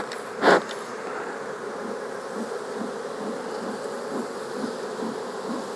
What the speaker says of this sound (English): There's a lot of bees in here,